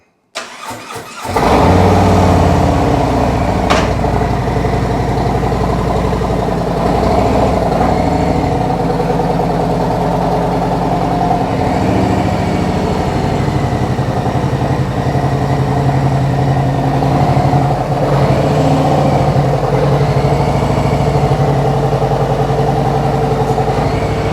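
A motorcycle engine catches after a brief crank and then runs loud and close at a steady idle throughout, while the bike is loaded onto a Kendon stand-up lift.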